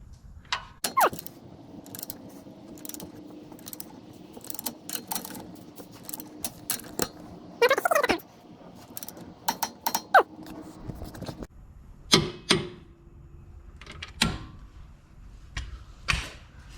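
Tightening a steering dampener bolt on a 2011-2016 Ford F250 with a torque wrench, heard as scattered close metallic clicks and ratcheting clatters in irregular bursts, with no talk.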